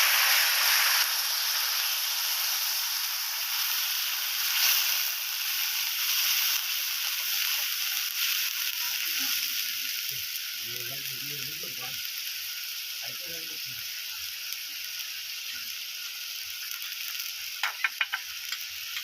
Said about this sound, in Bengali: ওই তেলের মধ্যে আমি এখানে পেঁয়াজের যে পেস্টটা করা ছিল,